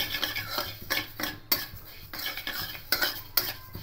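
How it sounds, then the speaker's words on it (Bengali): Gobindobhog rice dry-roasted in a wok with no oil, stirred with a metal spatula: rhythmic gritty scrapes and clinks of grains against metal, close and fairly loud, with no voices. "এবার এই চালটা শুকনো খোলায় কিছুক্ষণ একটু রোস্ট করে নেব।"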